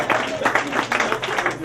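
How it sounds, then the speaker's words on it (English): A small group at a meeting claps in a quick burst of separate, fairly close hand claps, with a voice talking over them. "Come on, give it a clap."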